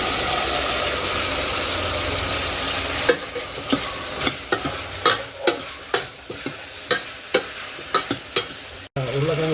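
Potatoes frying in a pan, first as a continuous sizzle, then under a series of rhythmic scraping stirs about every half second, each a distinct clatter over the hissing oil, with no voices.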